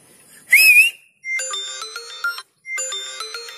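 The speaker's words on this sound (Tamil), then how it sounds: "நீங்க வந்து விசில் பண்ணீங்கன்னா உங்களுக்கு வந்து மொபைல் அலாம் அடிக்கும்" A person whistles once, a short rising note, and an Android phone running a whistle-finder app answers with a loud, bright melodic ringtone alarm played twice with a brief gap between.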